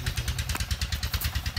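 A motorcycle engine idles nearby with a quick, even pulsing thump and light mechanical clatter, fairly quiet and steady.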